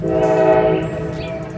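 A train passing close by, its loud, sustained horn-like tone blaring for under a second before easing off, with rumbling rail noise underneath and no talking.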